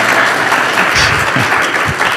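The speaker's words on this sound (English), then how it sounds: "she deserves applause" Audience applause at an indoor speaker-series event, a dense, even patter of many hands clapping throughout the short stretch.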